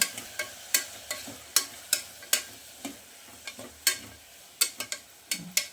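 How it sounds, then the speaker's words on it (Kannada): Peeled jackfruit seeds and tomatoes frying in oil for a Malabar spinach and jackfruit seed sambar, with sharp scattered clicks and pops over a low sizzle, no voices. "ಇದೊಂದು 2 ನಿಮಿಷ ಎಣ್ಣೆಲಿ ಫ್ರೈ ಆಗಬೇಕು"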